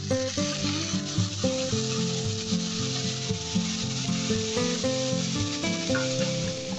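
Onion greens and green chilli stir-fried with turmeric in a pan, a steady sizzle with repeated scraping and rubbing strokes of the spatula, close and continuous, with tonal background music running underneath.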